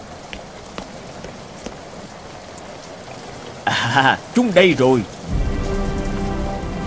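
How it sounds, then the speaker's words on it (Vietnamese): In an animated folk tale, rain falls on candles as a steady, even patter, and a person speaks briefly partway through. "Nước mưa đang trượt trên thân những chiếc đèn cày này."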